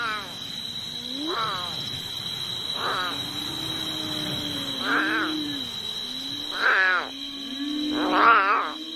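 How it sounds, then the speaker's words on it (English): An abandoned lion cub cries at night, several plaintive rising wails in separate bursts, the last ones louder, over a steady high insect drone. "The plaintive cries of the abandoned lion cub echo through the night."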